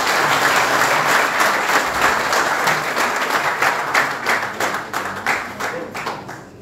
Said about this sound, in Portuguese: Uma salva de palmas para o partido que passa.